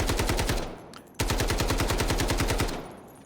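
An AK rifle fires in the Delta Force video game firing range: two rapid full-auto bursts, each a loud, evenly spaced string of sharp shots, with a brief pause between them.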